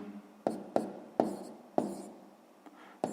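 A pen taps and scratches on paper while a sixth-grade maths exercise is written out, with several sharp strokes followed by softer scratching, close and quiet.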